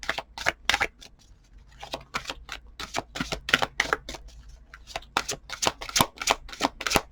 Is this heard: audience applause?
no